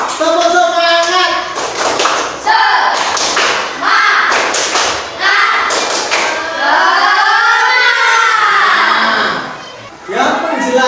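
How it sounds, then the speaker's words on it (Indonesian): A school class does a rhythmic spirit clap (tepuk semangat), heavy patterned claps and thuds alternating with voices chanting together, loud and close. "Tepuk semangat."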